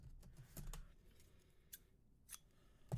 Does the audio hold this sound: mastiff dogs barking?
no